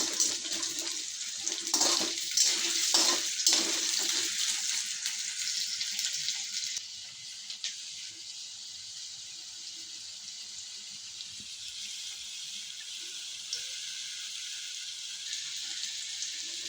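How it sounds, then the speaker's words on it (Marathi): Potatoes frying in oil in a kadhai for sabudana khichdi, a loud bubbling sizzle with a few sharp splutters early on that settles into a steady, softer hiss. "बटाटे आधी तळून घेऊ आपण थोडे।"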